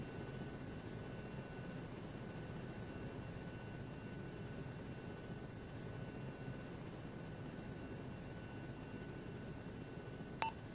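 Helicopter approaching a helipad for landing during military JTAC training, a steady droning rotor and engine hum held at an even level throughout with a brief click near the end.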